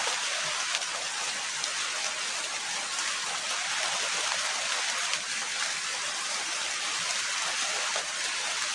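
Rain falls steadily outdoors as an even, dense hiss of drops that holds at constant loudness throughout, with no voices over it.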